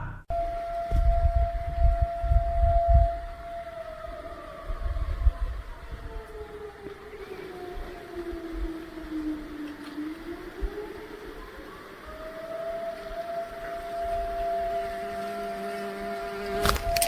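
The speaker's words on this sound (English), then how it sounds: "the wail of an air raid siren echoing through the trees" An air raid siren wails, rising and falling slowly, its long drawn-out tone carrying from a distance through trees with a low rumble underneath and no voices.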